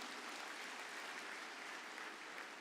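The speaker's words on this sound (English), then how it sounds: "Can we have an applause from the last part of the hall, please?" Scattered applause from the rear section of a large conference hall at a business conclave in Bhubaneswar, a steady crackle of clapping hands held at a faint, even level with no one talking over it.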